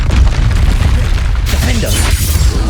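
In the Hogwarts Legacy video game, a Confringo spell sets off a loud, low booming blast that rumbles through the whole moment, with a crackling burst midway and a voice sounding briefly over it.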